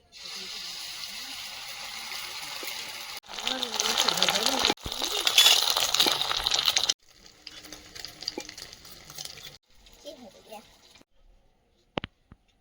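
Egg omelettes frying in a pan in a village kitchen, making a steady sizzle with stirring and scraping that fade out toward the end, with a sharp clink near the close.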